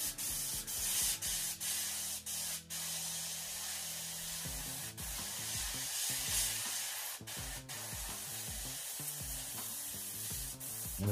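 Airbrush hissing steadily as it sprays grey paint through a stencil onto a hat, a continuous close spray with short pauses and bursts, and a low tonal hum running underneath.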